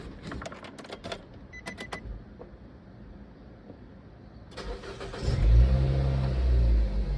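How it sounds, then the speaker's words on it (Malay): Car engine after a battery replacement, with a few light clicks and knocks at first, then the engine cranks and catches and revs loudly and close, settling into a strong steady run. "Jom kita start kereta."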